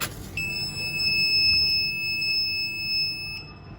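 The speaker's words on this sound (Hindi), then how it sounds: "तो जैसे ही फ्लेम सेंसर फ्लेम को सेंस करता है, 3 सेकंड्स के लिए बजर ऑन रहता है" An Arduino buzzer alarm set off by a flame sensor lit with a match sounds a steady, piercing electronic tone that holds for about three seconds and then cuts off, close and clear over low background hum.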